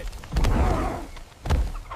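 Two short bursts of squawking from a chicken, close by, separated by a brief pause.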